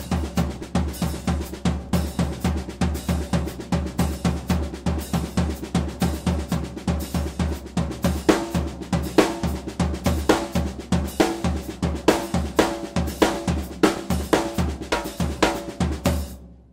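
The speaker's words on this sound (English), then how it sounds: "If I keep the sticking always starting with my right hand, it will sound like this." Fast alternating single drum strokes, sticking always led by the right hand, repeat in an even, steady pulse around the kit for the whole stretch, played loud and close with no talk.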